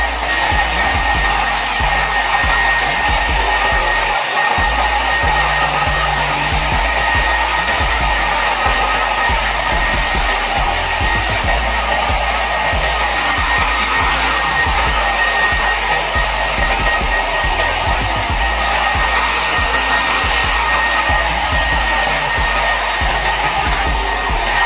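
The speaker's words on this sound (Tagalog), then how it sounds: "Ngayon, tsaka natin po gagamitan ng blower." A pet blower runs continuously at a steady, loud roar, drying a dog's fur after a shaving powder treatment, with no change in pitch throughout.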